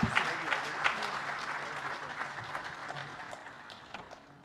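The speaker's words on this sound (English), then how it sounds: "a warm applause for him as he takes the stage" Audience applause at a public address by the Deputy President of Kenya in Mombasa County, a steady wash of many hands clapping from the hall, loud at the start and holding evenly throughout.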